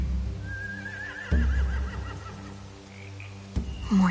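A horse whinnies in a video game with a high, wavering call that falls in pitch, over a steady low hum, with a couple of dull thumps nearby.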